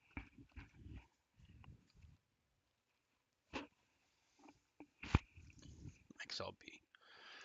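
A dog moving about close to the microphone indoors, with short bursts of sniffing, snuffling and soft clicks scattered among quiet gaps, and some low murmuring alongside.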